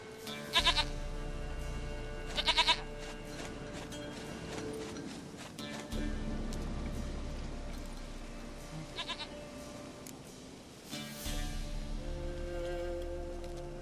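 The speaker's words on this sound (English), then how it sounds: "Goat of mine, dearest, sweetest goat." Several short goat bleats in the video game The Witcher 3 ring out over a continuous background of ambient music and rain-like hiss.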